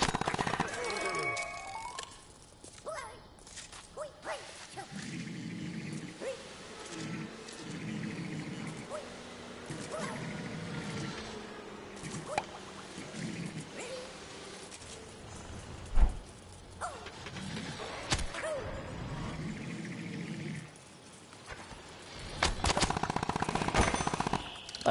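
A zombie fires a gun in Plants vs. Zombies: Battle for Neighborville, with repeated shots and bursts running through a busy game mix while a person talks over parts of it.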